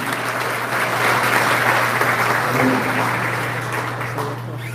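Church congregation applauding after a healing at a Provedor Church service, steady dense clapping throughout at moderate distance, with a low constant hum underneath and faint murmuring voices.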